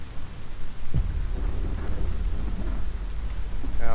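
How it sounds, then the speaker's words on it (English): Rain and thunder in Hellblade: Senua's Sacrifice, a steady dense hiss of rainfall with a deep rumbling thunder roll beginning about a second in and lingering underneath, no voices. "I think the rain effects in this game might be the best that I've seen."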